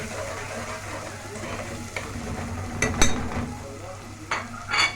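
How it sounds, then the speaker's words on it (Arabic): Onions frying in a pan with a steady soft sizzle, broken by a few scraping stirs and clinks of a utensil against the pan, close up, with no talking. "البصله انا مش عايزاها تاخد يومي، يا دوبك بصوا انا بلف فيها كده"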